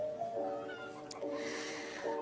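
A domestic cat meowing indoors, a few short, close, moderately loud mews repeated over about two seconds with a faint background hum.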